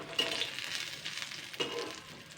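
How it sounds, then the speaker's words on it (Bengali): Pumpkin leaf fritters (bora) fry in medium-hot oil, giving a soft, steady sizzle with a few brief crackling bursts, quiet and uninterrupted by talk. "2 মিনিট 2 মিনিট করে বড়াগুলো ভেজে নেব"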